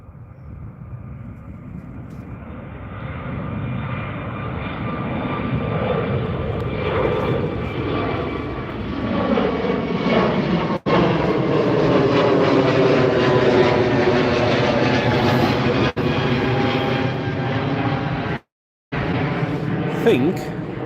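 ATR turboprop airliner on final approach to London Gatwick, its propeller drone building from distant to loud and close as it passes overhead, with people chatting over the steady engine roar.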